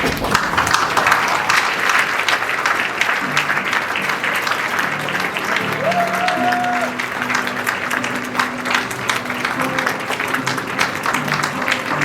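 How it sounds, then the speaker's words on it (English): A large hall full of people at a secondary school graduation ceremony applauds steadily and loudly as the graduating class leaves. Dense continuous clapping runs throughout, with faint crowd voices and tonal sounds mixed underneath. "A round of applause as they leave the hall"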